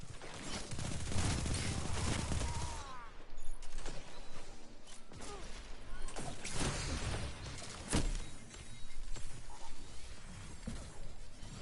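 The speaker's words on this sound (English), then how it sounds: "It just says pulse rifle. Pretty sure that's Outbreak." Rapid bursts from the Outbreak pulse rifle in the shooter game Destiny, mixed with other weapon fire, impacts and clatter, a dense, busy stretch of sharp cracks of shifting loudness.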